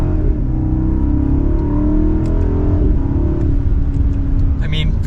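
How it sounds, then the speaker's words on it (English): A 2023 BMW 760i xDrive's V8 engine pulls hard under acceleration from second gear with paddle shifts, a loud, continuous deep rumble whose tone climbs steadily, heard from inside the car. "You still have that gas engine, that V8 engine, if you want a 760i."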